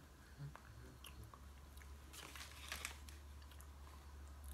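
Biting and chewing a Popeyes chicken sandwich during a mukbang: soft, close crunches and mouth sounds over a steady low hum, fairly quiet, with no talking.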